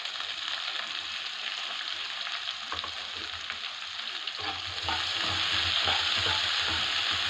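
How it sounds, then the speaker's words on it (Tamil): Onion sautéed with coriander in an oiled pan, a steady close sizzle with occasional scraping stirs that grows louder and busier in the second half. "வெங்காயம் கூடவே கொஞ்சம் கொத்தமல்லியும் போடுறோம்."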